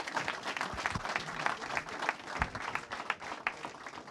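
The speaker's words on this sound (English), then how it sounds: "Ladies and gentlemen, a round of applause for Greg Sheridan and Peter Kurti" An audience at a talk applauds the speakers. The clapping is fairly quiet and steady, with individual claps audible in a loose, continuous patter.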